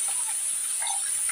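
Tempering spices with fresh curry leaves and onion sizzle in hot oil in a village kitchen, a steady, loud, even hiss running unbroken throughout with no voices.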